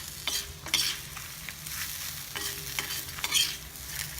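Grated coconut added to a pan of sambar tempering, a steady close sizzle with repeated scraping stirs and light clinks of the spoon every half second or so, no voices.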